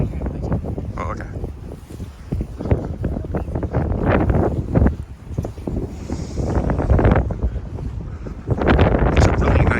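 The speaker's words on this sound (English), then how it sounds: "And it's windy" Gusty wind buffets a microphone on the deck of the Holland America cruise ship Rotterdam near Kristiansand, loud rumbling bursts rising and falling throughout.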